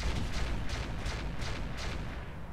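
Mech weapons in Roguetech firing as a dense, rumbling barrage of heavy booms rolling continuously, moderately loud with no voices.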